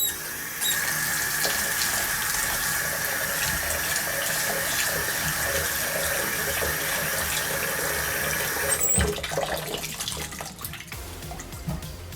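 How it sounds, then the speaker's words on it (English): Running tap water pours steadily over two cups of sweet rice being washed in a sink for Korean yaksik, a continuous close splashing stream that cuts off near the end, followed by faint handling noises. "So first you want to do is wash it until the water comes clear"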